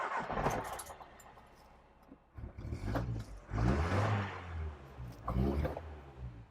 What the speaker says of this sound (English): Now let's start this car up so you can hear what she sounds like.